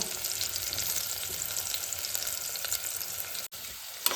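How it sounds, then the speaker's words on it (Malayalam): Kingfish pieces fry in oil ahead of layering into a biryani: a steady, close, hissing sizzle with faint crackles. A brief utensil knock breaks in near the end, and there is no talking. "ഇത് ദമ്മിടാൻ വേണ്ടിയിട്ട് പൊരിച്ചെടുത്ത് വെക്കണം കേട്ടോ"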